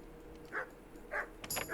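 Dogs in the medieval video game Kingdom Come: Deliverance bark in three short, spaced-out yelps against a quiet background, with a sharp clatter near the end.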